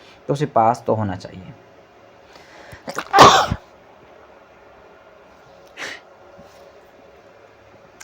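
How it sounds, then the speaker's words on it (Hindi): A person gives one sharp, loud sneeze close to the microphone, set off by a kitchen smell from a neighbour's cooking, between stretches of speech in Hindi. "छींक आ गई है"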